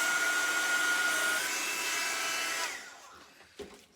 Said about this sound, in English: Let your heat embossing tool warm up for a couple of seconds.